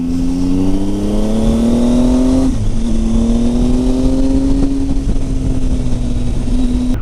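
A Honda Africa Twin 1000 motorcycle rides on an open road, its engine droning steadily close to the rider and rising in pitch through each gear, with a brief dip at a shift, under constant wind rush.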